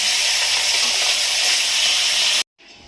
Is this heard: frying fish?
yes